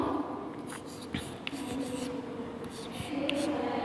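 A number is handwritten for a class 4 maths lesson on expanded form, with faint, close scratchy strokes scattered over a few seconds against steady low room noise.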